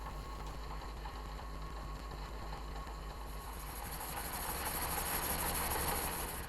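Metal lathe turning and roughing a chuck spigot, also cleaning up the outside diameter, giving a steady machine drone with a continuous hiss that grows brighter and louder in the second half.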